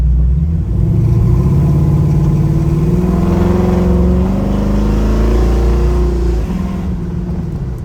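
A 1966 Chevrolet Nova II engine hums steadily while driving, pitch rising gently as it accelerates, then easing off with road noise underneath.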